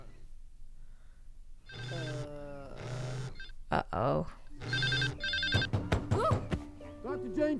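An old-style telephone bell rings in repeated bursts inside an animated Marvel What If scene, loud and close, with voices speaking between and over the rings.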